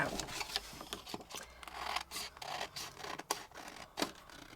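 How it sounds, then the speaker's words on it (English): Scissors snip and trim around the edge of a thin paper card folio made from snippet rolls and master board. Quiet, close, irregular cuts follow one another steadily, with faint paper rustling between them. "So I'm going to now go around the whole thing and trim it down."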